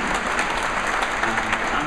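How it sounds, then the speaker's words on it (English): A TED event audience gives a steady round of applause, a thick, even wash of many hands clapping at close range with no pause throughout. "A big round of applause."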